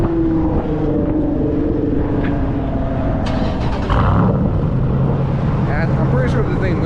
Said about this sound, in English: you want to hear the startup because my boy's been building this